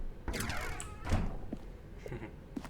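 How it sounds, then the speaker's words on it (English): A door in The Stanley Parable opens with a sliding, resonant whoosh and a heavy thunk, followed by a few softer knocks and clicks nearby. "Stanley walked through the red door."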